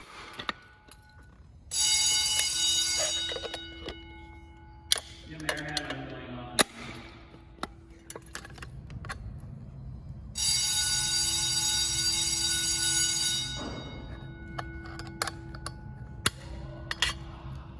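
Fire alarm bells in a 1990s elementary school ring in two long, loud, continuous clanging bursts during a test, with a steady low hum and scattered clicks and knocks between them, and people talking briefly.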